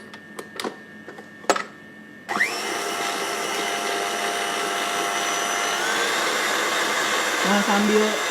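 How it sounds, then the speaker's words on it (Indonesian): An electric hand mixer beats butter and white shortening together for a cake, giving a loud, steady whirring drone that starts abruptly after a few soft knocks and runs continuously. "Kedua bahan ini di mixer dahulu sampai dia"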